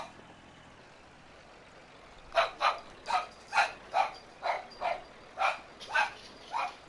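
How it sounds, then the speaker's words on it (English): Farm dogs barking nearby, about a dozen sharp, loud barks in an irregular rhythm after a couple of seconds of quiet room tone, with no talk during the barking. "Farm dogs barking."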